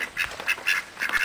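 A duck quacking in a dim enclosure, several quick nasal quacks in an uneven run, fairly close and clear with no talking.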